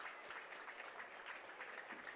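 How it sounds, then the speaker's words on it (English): High school basketball crowd at a home arena giving steady applause as seniors leave the court on senior night, a continuous wash of clapping a little distant. "They get a nice little ovation from the crowd the last time in their high school careers"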